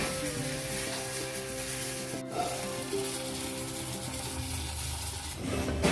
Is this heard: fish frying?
yes